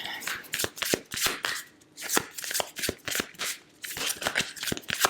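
Moonology oracle cards are shuffled by hand in a tarot reading, giving repeated crisp riffling bursts and slaps close up, separated by short pauses, while a voice speaks softly underneath.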